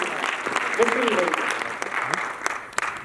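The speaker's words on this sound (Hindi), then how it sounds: "एक जोरदार तालियां अपने इन दोस्तों के लिए जिन्होंने सच में काम डबल करके दिखाया।" A large meeting audience claps in a sustained wave of applause, dense and steady with sharper individual claps standing out, while a voice speaks briefly over it.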